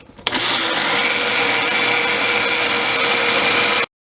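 Blender whirring steadily as it chops fruit into a thick smoothie, a loud continuous motor drone that starts abruptly and cuts off sharply after a few seconds, with no talking.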